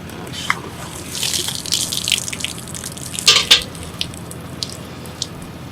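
Water poured out for horses outdoors, splashing and gushing in short bursts with a few drips, close and moderately loud.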